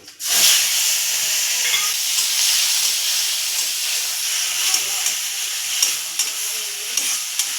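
Oil hisses loudly in a hot pan with nigella seeds and green chillies for an eggplant and hilsa dish, a dense continuous close sizzle that starts abruptly and holds steady, with small pops and clinks.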